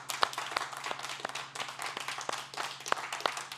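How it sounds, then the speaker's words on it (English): A small group claps steadily and briskly, the sharp hand claps fairly close and continuing without voices for a few seconds. "Let's give one more round of applause for Nora."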